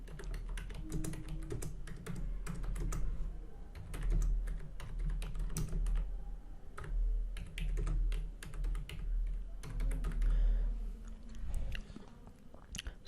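Someone types HTML code on a computer keyboard in long bursts of dense, clattering keystrokes with short pauses, fairly close and steady, no voices over it.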